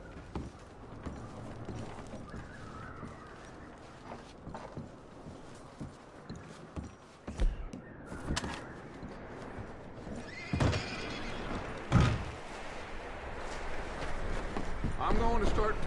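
Video game horses whinny and snort as hooves clip-clop on the ground. The neighs come in several loud bursts, mixed with ambient game noise and background movement.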